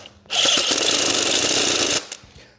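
Screws driven into a concrete floor with a power driver during floor leveling, one loud continuous grinding burst of under two seconds that cuts off abruptly, followed by a brief rattle.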